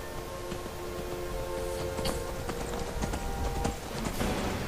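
Horse hooves pound in a fast clip-clop gallop in the Skyrim video game, close and rhythmic, a continuous run of hoofbeats over faint background tones.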